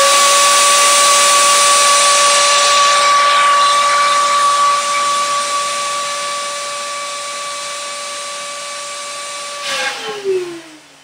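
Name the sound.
Shishavac blower blowing air through a hookah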